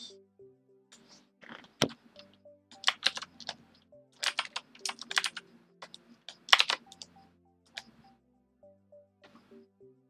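Scattered keystrokes on a computer keyboard during a game session, irregular bursts of clicks and rattles with pauses between them, close and moderately loud, with no talking.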